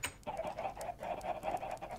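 Minecraft chickens clucking in a quick series of short, soft clucks in an uneven rhythm, close by and fairly faint, with no talking.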